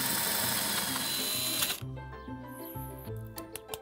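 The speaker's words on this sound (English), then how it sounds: "we're just simply going to drill" A power drill whirs steadily while drilling a hole in a coffee jar, then drops into short, stuttering bursts as the bit works through, with a few faint clicks at the end.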